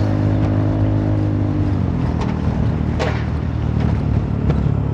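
Honda Forza 350 scooter engine running loud and close, a steady droning exhaust note with a few sharp revving blips and no voices.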